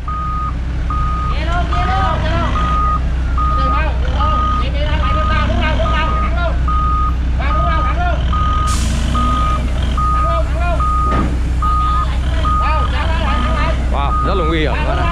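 A truck reverses slowly while unloading a Doosan DX55W-5K wheeled excavator, its loud, steady reversing beeps repeating at an even rhythm over a rumbling engine, with people calling out and talking throughout.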